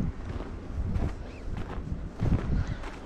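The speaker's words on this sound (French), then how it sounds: "Il semble avoir un petit peu de vent." Light wind moving through a forest outdoors, a soft broadband rush with low gusty rumble buffeting the microphone, steady with a brief swell near the end, no talking.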